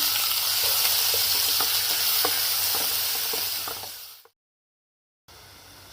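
Garlic cloves and a large chopped onion fry in oil for a green chilli potato curry, giving a steady, close sizzling hiss dotted with crackles and stirring scrapes, cutting to silence for about a second before the sizzle returns.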